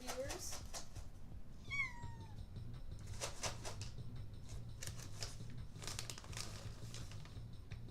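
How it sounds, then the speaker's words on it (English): A cat meows a few times, a quick high sliding cry, amid soft rustling and clicking, with a person talking nearby. "That was my cat. I hope you guys heard those meows."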